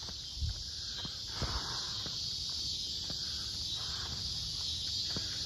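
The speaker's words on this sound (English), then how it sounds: "Those are not crickets, those are cicadas." Cicadas drone in a steady high buzz through a suburban neighborhood during a Labor Day walk, constant and moderately loud, with faint footsteps and occasional low thumps beneath it.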